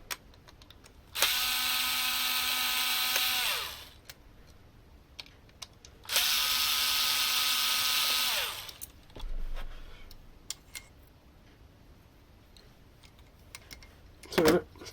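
A power drill backs out screws in two sustained whirring bursts of roughly three seconds each, close and fairly loud, separated by quiet handling clicks and followed by faint clatter.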